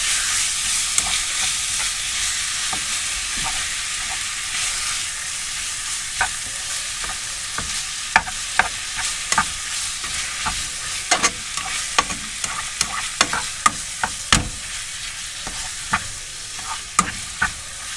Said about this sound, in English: I'm just going to brown this mince off, mix it in with the onions and the tomatoes